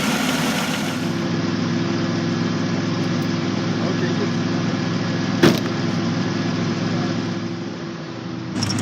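A 1949 Willys Jeepster with a 231 V6 engine idles steadily with a smooth, low rumble throughout, a single brief click near the end.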